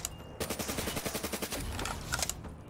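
Peacekeeper rifle firing in Black Ops 3 Zombies, a steady rapid burst of about twenty evenly spaced shots lasting around two seconds, loud and close, with no talk over it.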